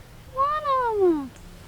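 A single kitten on a hiking trail lets out a clear, rising-then-falling meow lasting about a second, close and alone over quiet outdoor background.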